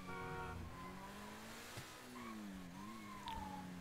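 A Lamborghini Huracan is driven in a video game. The engine note rises and falls through several shifts and turns, with a brief tire squeal, sounding fairly faint and heard without talking.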